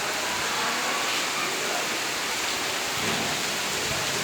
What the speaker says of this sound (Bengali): মেঘ গর্জন করছে